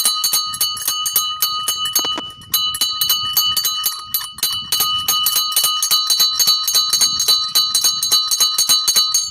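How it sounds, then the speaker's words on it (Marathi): A roadside kulfi vendor near a canal rings a hand bell rapidly and continuously, producing bright metallic clangs in a quick, fairly even rhythm that are heard up close throughout, with a brief pause early on. "तिकडं बघू शकता तुम्ही कसं काय घंटी वाजवतोय."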